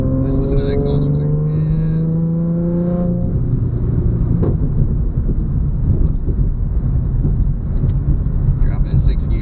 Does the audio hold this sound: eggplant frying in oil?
no